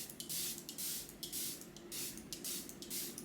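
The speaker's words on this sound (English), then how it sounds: "I'm gonna go on with the Airbrush Flawless Setting Spray by Charlotte." Charlotte Tilbury Airbrush Flawless Setting Spray misted onto a made-up face, several close, breathy hissing pumps in quick succession, each a short soft burst of spray, with no voice.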